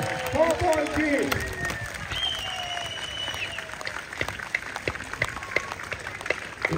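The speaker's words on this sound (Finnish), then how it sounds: "Annetaan kunnon aplodit siitä" Crowd applause at a jousting tournament at Turku Castle, steady outdoor clapping with a few louder sharp claps, mixed with announcer talk and a brief tonal sound early on.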